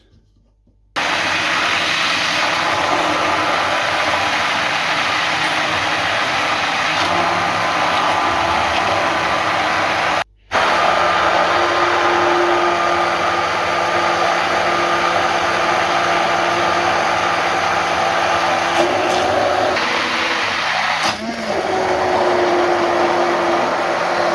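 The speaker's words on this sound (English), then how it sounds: "Now I'm just going to hand blend everything up, or should I say stick blend." A stick blender whirs steadily through homemade Tabasco sauce cooked from a pressure cooker, a loud continuous motor drone with one brief cutout and slight pitch shifts as it works the mixture.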